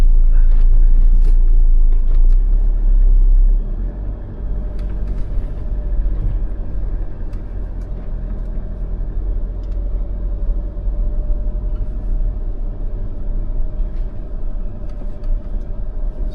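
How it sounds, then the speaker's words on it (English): A 2025 Jeep Meridian 4x4 in low-range four-wheel drive grinds up a rugged off-road incline, its engine rumbling steadily. The rumble is heavier at first, then settles into a lower continuous drone with scattered knocks. "little bit of more throttle, the car climbs up"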